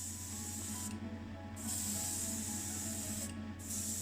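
An airbrush spraying Vallejo Premium paint onto a 1978 Renault 5 custom model car, a close steady hiss in bursts, cut off twice for short breaks, over a low hum.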